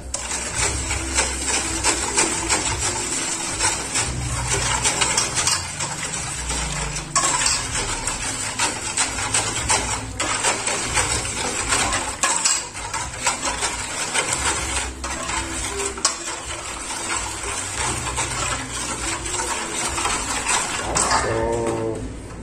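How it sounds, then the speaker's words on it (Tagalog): Sugar and powdered milk being stirred in a bowl for marble cake bread, a fast, continuous scraping and tapping of utensil against the bowl, close and steady throughout with no talk. "haluin na muna natin ito para matunaw na yung ating asukal"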